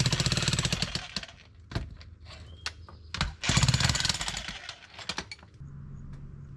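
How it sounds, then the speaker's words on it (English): Bursts of harsh rapid jackhammer hammering on concrete start and stop repeatedly, loud and close, with short pauses and clanks between, followed by a steady engine hum. "I'm gonna get out the jackhammer"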